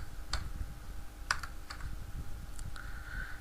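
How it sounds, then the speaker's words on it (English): Sparse keystrokes on a computer keyboard, a few separate clicks and short bursts of typing, close and fairly quiet over a low background hum. "And now here I'll type"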